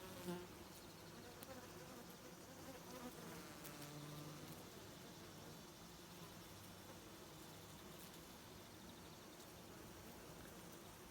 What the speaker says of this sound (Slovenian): Evo čmrl, baje je bolj priden kot čebela